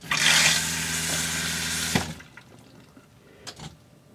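Water from an RV's pump-fed cold line rushes loudly and steadily for about two seconds, then cuts off, leaving faint drips and a couple of small knocks in the quiet afterward.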